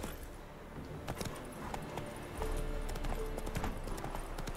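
Roach the horse galloping in The Witcher 3: steady, rapid hoof clip-clop on the ground with jangling tack, loud and close throughout, with a deeper rumble joining partway through.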